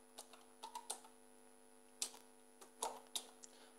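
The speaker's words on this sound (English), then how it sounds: "Let me type in my email address" An email address is typed on a computer keyboard, giving sparse, quiet close key clicks in an irregular rhythm over a faint steady electronic hum, with no voices.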